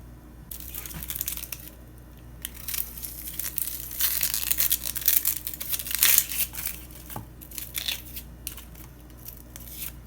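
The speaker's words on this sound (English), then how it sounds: "We'll start from peeling our veggies." Vegetables being peeled for vegan hash browns: close, dry scraping and crinkling strokes that come in uneven bursts and grow busier midway, with no talking.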